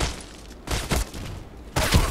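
Gunfire in the shooter Contract Wars, three loud separated bursts of blind shooting, each a cluster of rapid cracks with lulls of quieter background between them.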